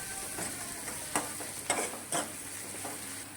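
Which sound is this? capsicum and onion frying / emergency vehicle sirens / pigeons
capsicum and onion frying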